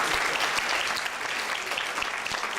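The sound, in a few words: applause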